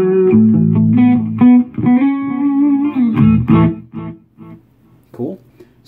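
Fender Champion 100 solid-state 2x12 combo amp cranked with distortion, a run of loud sustained guitar chords and notes with thick harmonics, pausing briefly and ending in short choppy strums before a final brief phrase.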